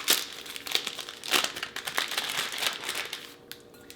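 A disposable plastic piping bag crinkles and crumples as it is folded over a hand while preparing Danish butter cookie dough, a close, continuous rustle with sharper crackles throughout.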